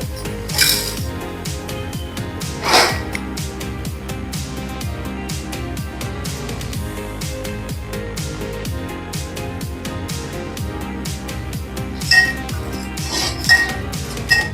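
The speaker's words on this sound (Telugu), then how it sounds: "ఈ మసాలాన్ని వేయించుకుందాము" Whole spices being roasted in a metal pan on a stove for chilli chicken, heard as dense, continuous dry rattling and clinking of a utensil against the pan, steady and close, with a few sharper clanks.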